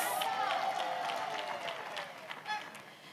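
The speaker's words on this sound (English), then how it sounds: "Can you give him a round of applause?" Audience applause at the official national launch of the lenacapavir rollout in South Africa, a steady crowd clapping that fades gradually over a few seconds, with a faint voice under it.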